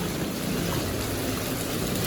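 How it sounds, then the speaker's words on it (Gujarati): Heavy rain pours steadily onto a waterlogged street in Surat, a dense, continuous roar of drops hitting water and surfaces, loud and close with no voices over it. "આવો કંઈક સરસ મજાનો વરસાદ પડી ગયો છે"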